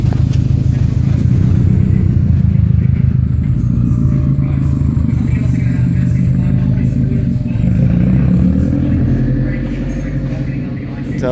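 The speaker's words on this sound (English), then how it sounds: "Turbo's definitely louder through these." A tuned 2011 Subaru WRX STI engine runs loud and steady with a low, throaty drone and a rough, burbling texture. It eases off near the end, and there are no clear separate revs or turbo whistle.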